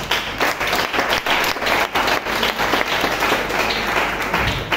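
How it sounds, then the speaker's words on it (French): A church congregation claps and cheers during a youth service, dense sustained applause filling the room with steady rhythmic clapping, loud and close, with a few voices mixed in. "Si tu crois, acclame le Seigneur."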